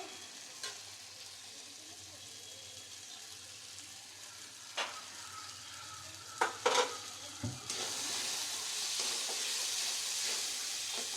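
Spice masala with turmeric and chili powder being sautéed in a pan: a faint sizzle with a few isolated spoon clinks and scrapes, then a louder, steadier frying hiss toward the end; no voices.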